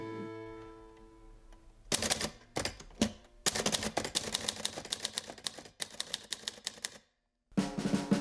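Manual typewriter keys clacking in rapid, irregular bursts with short pauses, close and fairly loud, after a quiet humming start and a brief silent gap near the end.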